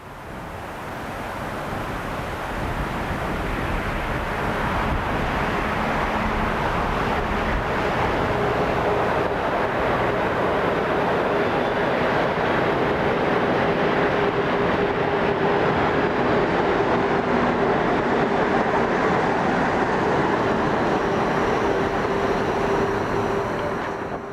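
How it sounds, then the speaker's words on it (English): An ÖBB class 1042/1142 electric locomotive hauling a stopping train bound for St. Valentin at Prinzersdorf, Austria, a loud sustained rumbling roar of the passing train with a steady whining tone, building quickly and holding near for the whole stretch. "the locomotive is on a stopping service bound for St. Valentin"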